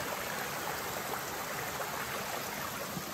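Water from a waterfall stream rushes in a constant, dense hiss, steady and unbroken, with no voices.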